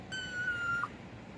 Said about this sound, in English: Oh, there's a baby kitty. It escaped. I gotta pause it, or its mommy freaks out.